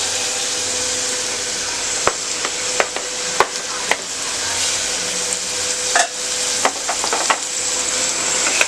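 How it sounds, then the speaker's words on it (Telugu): Chopped green chillies fry in masala for a mutton curry. A constant close sizzle runs throughout, broken by sharp clicks and scrapes from stirring. No voices. "మసాలా అంత కొద్దిగా వేగిన తర్వాత ఇందాక కట్ చేసి పెట్టుకున్నటువంటి పచ్చిమిరపకాయలు"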